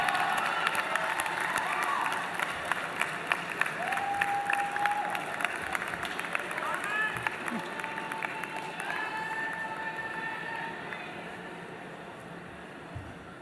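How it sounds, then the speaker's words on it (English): Loud, sustained applause and cheering from a large crowd of graduates and guests at a spring convocation ceremony, dense clapping with scattered whoops continuing steadily and tapering slightly at the end. "give them a thunderous round of applause."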